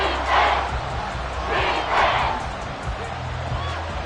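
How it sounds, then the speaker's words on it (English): A stadium crowd roars loudly and continuously at Arrowhead during a late fourth-quarter NFL football game, with swelling waves of cheering and yelling filling the whole space. "The Arrowhead crowd in full roar."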